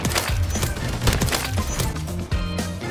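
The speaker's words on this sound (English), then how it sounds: "it kind of sounds like the SPAS-12 from Modern Warfare 3, like the original Modern Warfare 3" SPAS-12 shotgun firing in the Modern Warfare 3 video game, a dense run of loud, booming blasts with crackling impacts, heard amid continuous gameplay noise and no talking.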